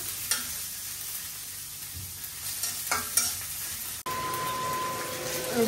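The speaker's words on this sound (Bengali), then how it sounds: "পেঁয়াজটা একটু ভাজা ভাজা হইলে এই আলুটা দিয়ে দিব" Chopped onions fry in a pan with a steady, soft sizzle, broken by a few spoon scrapes and stirring knocks, close and fairly quiet.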